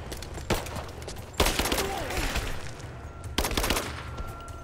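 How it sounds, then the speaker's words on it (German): Bursts of automatic gunfire in the video game Rise of the Tomb Raider, loud and close: a short burst, then longer rattling volleys with a steady noisy background in between. "Werde beschossen."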